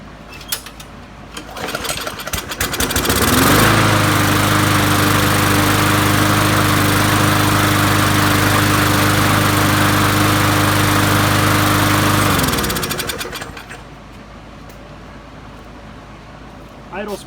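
A Briggs engine on a Craftsman lawn mower cranks a few times, catches and runs at a steady, loud idle for several seconds before shutting down, with background noise on either side.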